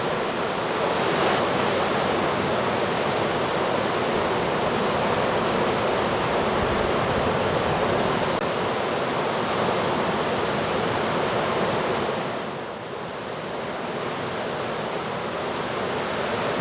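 Baltic Sea waves crash and wash steadily onto the shore at Kołobrzeg, a loud broadband roar with gusty wind noise, briefly easing before building again.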